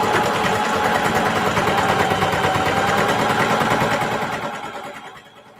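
A sewing machine stitches down the sides of a fabric handbag at a 2.5 mm stitch length, a fast, steady mechanical whirr close up that runs continuously and then winds down and stops near the end.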